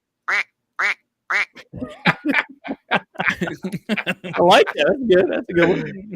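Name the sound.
duck quack imitation with a bird call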